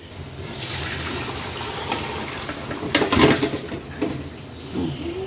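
Water from a pot of boiled pork pours and gushes through a strainer, a steady close splashing stream with a few louder splashes and a rattle near the end.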